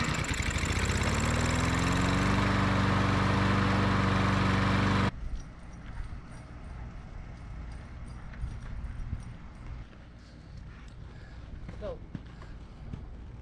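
A Briggs & Stratton lawn mower engine with a plastic carburetor is test-started after a carburetor fix and runs loud and steady for about five seconds, then cuts off, leaving faint outdoor background noise.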